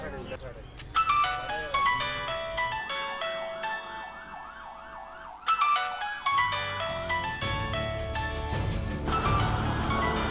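An electronic phone ringtone repeats its tonal melody several times, fairly loud, with a brief pause midway before resuming.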